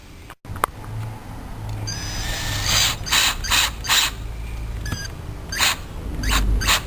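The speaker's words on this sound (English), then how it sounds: "And now we secure the second hole on the oval hole again." A screw is driven through an oval hole to secure a rail on an army desk during assembly, producing a series of close ratcheting, clicking bursts from the driver with short pauses in between, with no voices.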